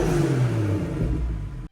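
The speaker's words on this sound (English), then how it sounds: "Here's how the car sounds stock." Stock BMW 340i with a B58 engine, a deep, loud engine rumble as it revs, holding steady and then cutting off abruptly.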